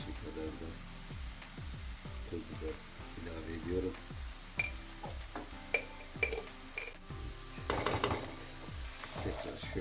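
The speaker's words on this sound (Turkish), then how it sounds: "şöyle bir karıştırıyorum. Baharatımla birlikte özleşsin diye" A spoon stirs spices and black pepper into a meat and chickpea stew in a pot, making scattered clinks and scraping taps against the pot over faint background noise.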